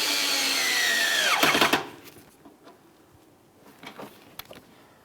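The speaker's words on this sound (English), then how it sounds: "start putting in your Phillips head mounting" A power tool drives a Phillips head mounting screw up into a 2006-2012 Ford Fusion fender liner: a loud, close whir whose pitch falls as the screw seats after about a second and a half, followed by faint clicks and handling noises.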